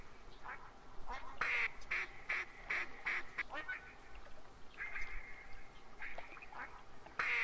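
Ducks quack in theHunter 2017 hunting game, a rapid run of raspy calls followed by a second burst a few seconds later, moderately close over a faint steady background hiss.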